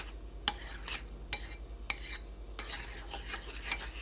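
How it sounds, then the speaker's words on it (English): A spoon scrapes and clinks against a bowl while sour cream is stirred into a meatloaf mixture, with a few sharp knocks early on and then softer rhythmic mixing, close by and without speech. "And mix it up"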